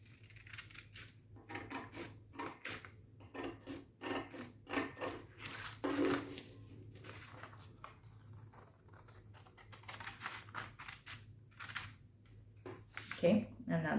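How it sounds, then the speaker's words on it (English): Scissors snip through paper while cutting out squares for origami, a series of short, crisp cuts in irregular bursts, close and fairly faint, with a voice talking between them. "So let's just do that with our scissors."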